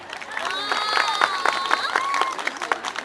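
Audience applauding and cheering for Ankara Metropolitan Municipality workers at a Ramadan event, lively clapping with voices and whistles mixed in.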